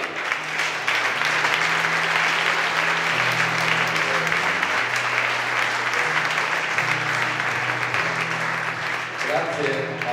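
Sustained audience applause for a band at a Milan music event, a continuous even roar of clapping with a low hum underneath and a voice emerging near the end.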